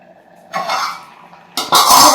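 A lid goes onto a cooking pot of spinach and lentils, giving two short metallic clanks and scrapes close by, with a brief pause between them.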